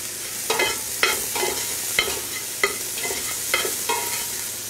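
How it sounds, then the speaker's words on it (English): Lobster, hedgehog and chanterelle mushrooms hit a hot pan one batch after another, each drop bringing a fresh burst of close crackling sizzle over a steady frying hiss, with no one talking. "So I'm going to add the mushrooms by their thickness."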